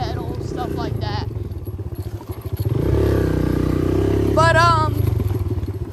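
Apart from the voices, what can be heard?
dirt bike engine running while riding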